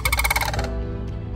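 Sandhill cranes near Oxford, Michigan call loudly and close by with rapid, rolling, rattling bugles, a strong pulsed burst that breaks off into a fainter trailing note.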